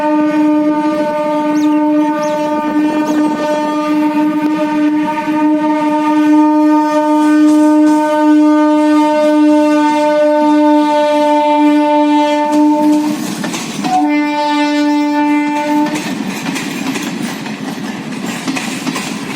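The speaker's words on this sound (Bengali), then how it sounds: "যেতে যেতে এখানে দেখছি একটা ট্রেন যাচ্ছে" A train passes close by, its horn sounding in long, loud harmonic blasts for most of the stretch, with a brief break near the end before the horn resumes over steady rumbling.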